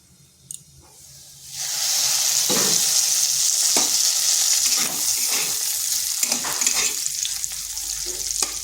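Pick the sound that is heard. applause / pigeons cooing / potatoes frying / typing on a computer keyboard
potatoes frying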